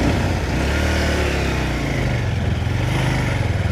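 Motorbikes move through a landslide zone, their engines making a loud continuous close rumble and drone that holds steady, with no one speaking.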